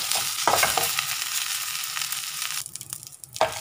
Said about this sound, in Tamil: அதோடய ஈரம் போகிற வரைக்கும் அதை வந்து வதக்கிக்கிறோம்